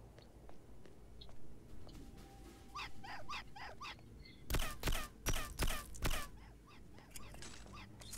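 A dog in Hitman Blood Money barks in a quick burst of several loud, sharp yelps near the middle, with fainter whimpers and game ambience before and after.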